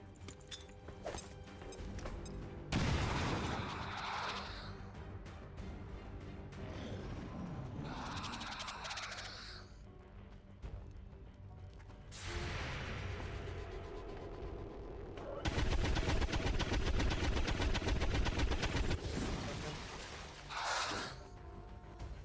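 Gunfire and a grenade explosion from the video game XCOM 2 come in several loud bursts of crackling blasts and rattling shots, separated by quieter gaps.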